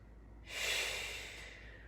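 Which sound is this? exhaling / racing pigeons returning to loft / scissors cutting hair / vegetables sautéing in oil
exhaling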